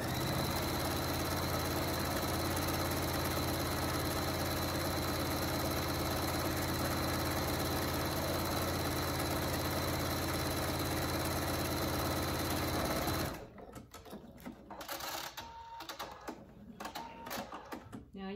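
Sewing machine stitching a fabric joey pouch for wildlife, a steady close mechanical whir running continuously for about thirteen seconds before stopping abruptly, followed by faint handling noises.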